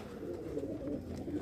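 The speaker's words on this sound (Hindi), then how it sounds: "रिजल्टेड कबूतर है, ख़राब कबूतर आपको एक भी नहीं मिलेगा, ये देखिए ये मादा है, इलाहाबादी मादा है" Domestic Allahabadi pigeons cooing close by in a soft, continuous low murmur of overlapping coos at a pigeon sale in Lucknow.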